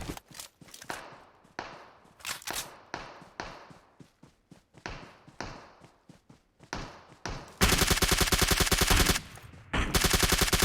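PUBG Mobile gunfire: a string of separate punchy shots with short gaps, then long continuous automatic bursts near the end, loud and close.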